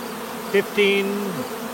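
Honey bees buzzing from a beekeeper's colonies, a close, steady insect drone with a couple of louder swells as bees pass near, over quiet background.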